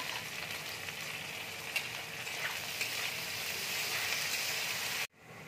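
Chopped garlic, ginger and onion sizzle steadily in hot oil, a dense close-up crackle holding at an even level with a few sharper pops, then cutting off abruptly near the end.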